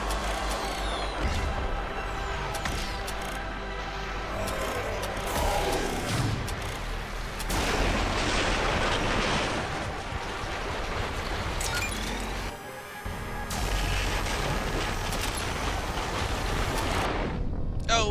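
Missiles launch and explode during a space battle in Mass Effect 3 Legendary Edition, heard as a loud, continuous roaring rumble with repeated crashing bursts and a brief dip near the end.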